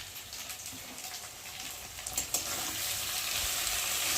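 Okra with turmeric, salt and mustard frying in a pan gives a steady, moderately loud crackling sizzle throughout, with a few sharper pops near the middle.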